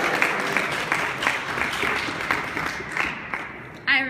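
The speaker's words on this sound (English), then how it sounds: "Let's give them a round of applause" A rally crowd claps in a lively, uneven burst, the applause swelling and fading in waves with occasional whoops, before a sharp sound cuts in right at the end.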